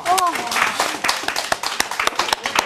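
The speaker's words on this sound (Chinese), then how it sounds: "掌声一下" Studio audience clapping during a fashion talk show segment, a burst of scattered hand claps that goes on steadily throughout, with a host's voice heard briefly at the start.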